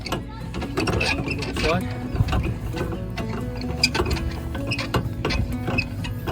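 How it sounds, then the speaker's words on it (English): A camper trailer's jockey wheel being wound down by hand, giving a close, steady ratcheting and clicking mechanism sound, with someone talking over it. "Lower your jockey wheel."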